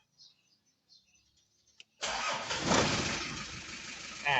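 A diesel engine cranks and fires after glow-plug preheating in cold weather. A few faint clicks come first, then a sudden loud catch settles into a steady, rough idle close by.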